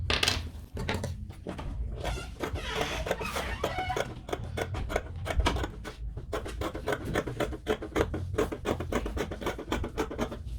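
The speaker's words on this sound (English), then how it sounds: "Okay, so I'll go ahead and cut now." Scissors cut through fabric for a peplum blouse with exaggerated sleeves in a steady, close run of crisp snips and rustles, with no talking.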